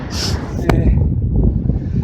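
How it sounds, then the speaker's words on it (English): Strong wind on a hilltop buffets the microphone in low, rumbling gusts, with a brief sharp click partway through. "It's still as windy as I remember"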